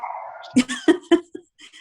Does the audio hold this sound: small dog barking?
yes